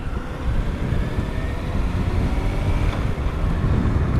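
Heavy wind buffeting roars over a microphone on a sportbike riding along North Kihei Road on Maui, a dense, loud, continuous rushing with no breaks.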